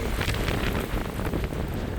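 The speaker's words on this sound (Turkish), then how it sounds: "hava rüzgarlı." Strong, steady wind buffets the microphone, a loud blustery rumble with no voices throughout.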